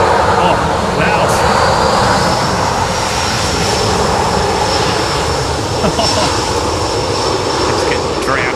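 Loud, continuous roar of airliner engines at Sydney Airport, close and broadband with a high whine running through it, while someone talks faintly underneath.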